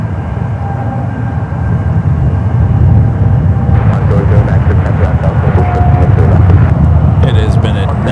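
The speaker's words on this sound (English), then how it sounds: "Takeoff 28 left, the flight heading back to Amsterdam in the 787-10 Dreamliner." Boeing 787-10 Dreamliner taking off on runway 28 left at San Francisco airport, a loud continuous rumbling engine roar that swells slightly and holds steady, with talk over it in places.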